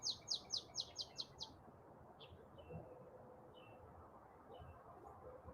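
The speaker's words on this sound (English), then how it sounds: "Birds are noisy this morning." Birds chirping on a morning outdoors: a quick run of about seven bright, evenly spaced chirps up close, then a few fainter, scattered calls over a low background rumble.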